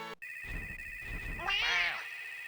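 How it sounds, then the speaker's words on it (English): A cat meows once, rising and falling, over a steady electronic chiptune tone and soft thumping from a Game Boy Advance game, with no talking. "You're hearing the meow"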